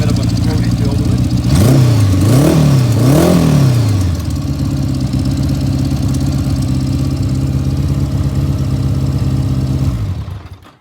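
A 1979 Honda Goldwing motorcycle engine idles with a deep, throaty exhaust rumble, revved a few times early on before settling into a steady idle and cutting off.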